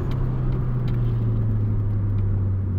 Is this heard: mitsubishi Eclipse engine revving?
yes